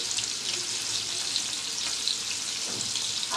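Raw chicken pieces with garlic paste sizzle in hot oil, a dense, continuous crackling hiss close by with small pops and no voices.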